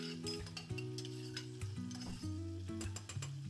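Tomatoes softening in a pan for homemade baby food: a steady close sizzle with stirring scrapes and clinks, while sustained tonal ringing from the pan runs underneath.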